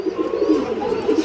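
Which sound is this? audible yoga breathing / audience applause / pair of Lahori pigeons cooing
pair of Lahori pigeons cooing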